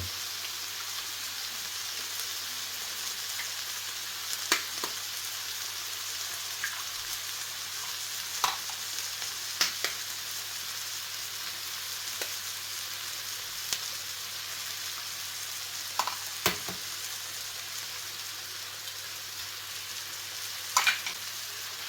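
Oyster mushrooms fry in a pan with a steady, soft sizzle as eggs are added, with occasional sharp clicks of utensils against the pan, no voices.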